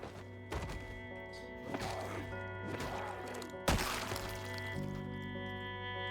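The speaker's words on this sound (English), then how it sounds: "And I hear more door banging." Zombies bang on doors in the video game Project Zomboid, a few heavy thuds and crashing knocks standing out over a steady game background hum.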